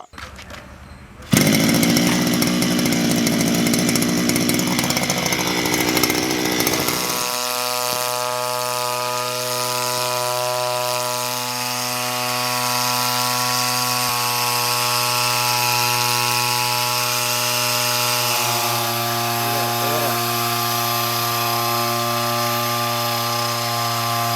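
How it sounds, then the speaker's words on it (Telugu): A 52cc, 2 hp petrol brush cutter engine starts up and runs loud and steady close by, droning with a buzzing whine that drops to a lower, even idle partway through. "యాభై రెండు సీసీ సామర్థ్యం కలిగిన ఈ బ్రష్ కట్టర్కు టూ హెచ్పి ఇంజిన్ ఉండటం"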